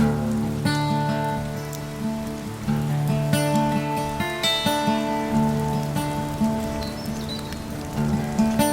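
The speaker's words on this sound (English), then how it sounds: "It's raining" Steady rain falling on an Edwardian farm in Japan-free English countryside in winter, dense patter of drops on surfaces with a continuous drizzle and occasional louder drips, no talk.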